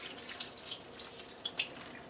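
Water draining and dripping from a hydroponic seedling tray set outdoors, with soft trickling and a few distinct drips over a faint steady wash, close and quiet, no talking.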